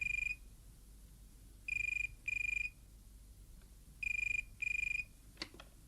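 A telephone rings in repeated electronic double bursts with pauses between, fairly clear against a quiet room; a brief clatter follows at the end.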